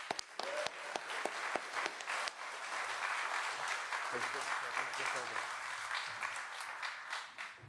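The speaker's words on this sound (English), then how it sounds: "Let's give him a round of applause" Audience applause for an Army sergeant at a breakfast reception marking the U.S. Army's 250th anniversary, a soft, fairly distant patter of many hands with sharper individual claps early and talk mixed in.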